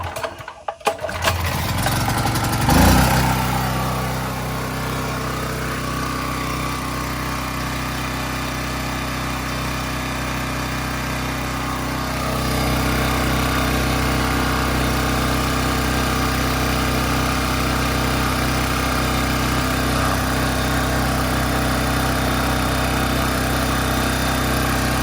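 A small generator engine running steadily after being started, a continuous close buzzing drone with a slight rise in level partway through, loud and alone without talk.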